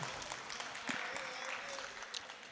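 Applause from the audience at an All India Mushaira poetry recital in Amravati: a brief, moderately loud round of scattered clapping over a murmur of voices.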